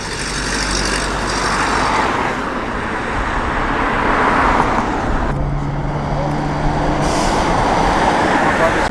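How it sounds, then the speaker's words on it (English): Vintage lorries and trucks, including an old Thames Trader and a Bedford, drive past on a classic vehicle run in Cheshire. Engine and road noise stays steady, with the loudness rising and easing as each vehicle passes. "In the distance I spy our first set of vintage lorries and trucks."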